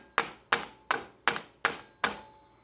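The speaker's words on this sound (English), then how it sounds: "Let's get a hammer, we'll tap that back through" Six sharp metallic hammer taps, evenly spaced, driving a pin back through the brake caliper of a Can-Am Outlander ATV; each strike rings briefly and decays, close and clear with no talking.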